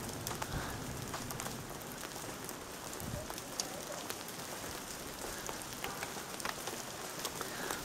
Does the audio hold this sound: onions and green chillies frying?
no